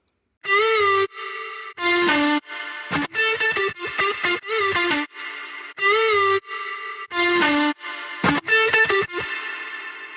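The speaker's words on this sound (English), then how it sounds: "And now we move on to the main lead sound of the drop," Bright, distorted synth lead stabbing out a choppy rhythmic pattern in repeating phrases, loud and buzzy with sharp on-off gating.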